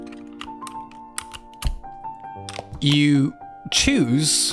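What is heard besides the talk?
clicking of custom mechanical keyboard switches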